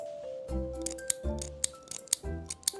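Narrow-bladed scissors snip repeatedly, a series of sharp close cuts with crisp metallic clicks, several in a steady irregular rhythm.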